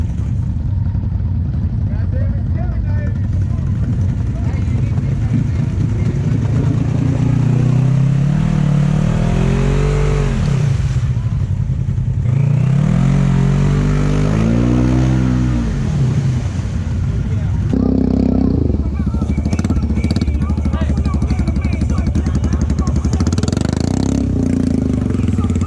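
Honda Rancher ATV engine revving hard while stuck, a loud continuous drone rising and falling in pitch with repeated throttle surges, with people talking and shouting over it.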